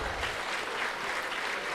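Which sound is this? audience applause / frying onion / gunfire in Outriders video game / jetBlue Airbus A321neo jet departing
audience applause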